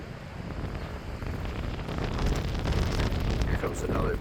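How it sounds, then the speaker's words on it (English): Strong 50–60 mph storm wind roars across the microphone outdoors as a steady broadband rush that builds into a louder gust partway through, with faint voices underneath. "Here comes another big burst of wind."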